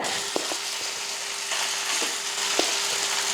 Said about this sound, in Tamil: இப்போ இதில் வந்து சாதம் போட்டு கிளறிக்கலாம்